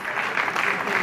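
Applause for a guest being welcomed on stage at an international startup competition event, a steady dense wash of clapping from an audience, sustained and fairly loud through the short moment.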